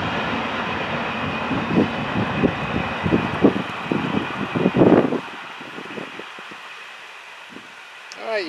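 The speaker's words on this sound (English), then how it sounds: "You can see Blinky taking this train safely down the line" An FEC freight train rumbles past with rhythmic clanking of wheels over rail joints, then the noise drops away, leaving a quieter hum and a few distant knocks.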